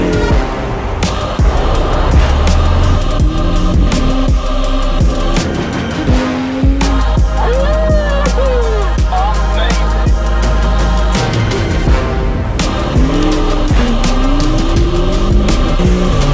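Car engine roaring and racing, loud revs rising and falling with tire squeals and skids, gear shifts breaking the run into repeated bursts of acceleration close by, with no talking.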